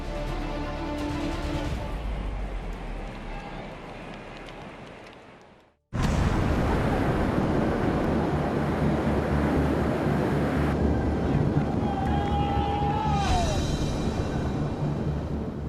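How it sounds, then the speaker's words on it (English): Wind roaring across an open road at a Tour de France stage, a loud steady rush that cuts out briefly and then returns at full strength, with a brief whistling tone near the end. "Wind."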